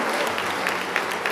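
Loud round of applause for award recipients at a chief minister's medal presentation ceremony, brief, dense and continuous clapping from a large crowd with no talk over it.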